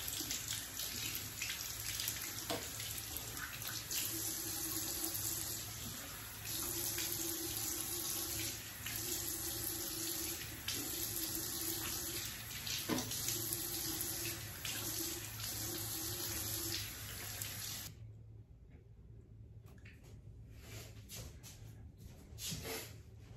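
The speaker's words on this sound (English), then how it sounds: "Now I'm gonna rinse it all off." Tap water runs steadily into a sink during face rinsing, a continuous close hiss with small splashes as hands move through the stream, then the flow stops abruptly near the end.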